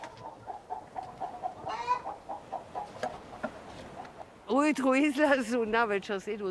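Free-ranging hens at a Croatian lighthouse cluck softly in a steady, repeated patter, and a voice then talks over them.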